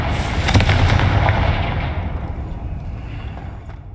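A loud Confringo fire spell blast from the video game Hogwarts Legacy: one sharp booming burst that fades out in a long rumbling decay.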